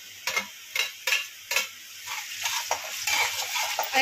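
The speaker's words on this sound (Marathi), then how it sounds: "मला कांदा टमाटर छान फ्राय झाले" Onion and tomato fry in a pan while a spoon stirs and scrapes against the metal in quick repeated strokes over a soft sizzle.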